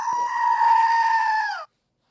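A single sustained goat bleat plays loudly through a microphone, a steady, slightly harsh cry lasting over a second before cutting off abruptly into silence.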